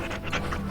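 A dog pants in Dragon Age: Origins, a short burst of quick rhythmic breaths close up with a faint low game-music bed underneath and no talk.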